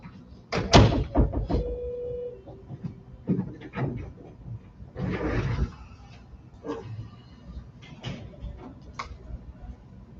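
A door in a city council meeting room thuds shut among several knocks and clatters, with a louder burst around the middle and scattered lighter taps after.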